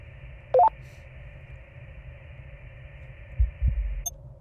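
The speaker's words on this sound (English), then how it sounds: "Oh, a heartbeat." Low, muffled heartbeat thumps in the sci-fi video game Voyager-19, a faint pulsing double beat under a steady electronic hum, with a brief tonal beep sequence near the start and no speech.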